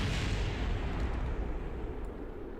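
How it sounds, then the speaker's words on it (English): A rocket explodes in the video game Kerbal Space Program, giving a deep, rumbling blast that starts loud and slowly fades over a couple of seconds. "This is probably just going to explode because of how fast it's falling into the orbit."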